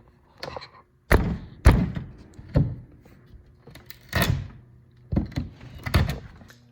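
A large sheet of plywood being pried off a garage wall, several heavy wooden thumps and knocks with creaks between them, close and loud, no talk.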